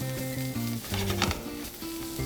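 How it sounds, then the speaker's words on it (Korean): Meat stir-frying in a pan over high heat for fajitas, sizzling steadily with scraping stirs, close and fairly quiet beneath faint music. "고기도 같이 볶아주면서 익힘 정도를 좀 조절을 해주시면 돼요"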